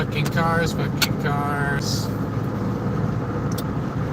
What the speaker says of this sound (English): Oh boy, there's a car here.